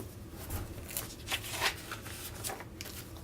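Paper notebook pages flip and rustle in quick, close bursts of soft flapping and crinkling, several page turns in a row with no talk.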